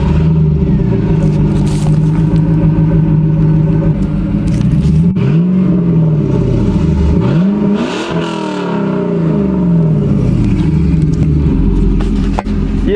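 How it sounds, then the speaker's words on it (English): A stock Chevrolet Camaro Z28 V8 idles with a loud, steady exhaust rumble and is revved several times, the engine pitch rising and falling in sweeps, close to the microphone. "Let's go ahead and hear that exhaust since we're getting a Tick Stage 2 cam, right?"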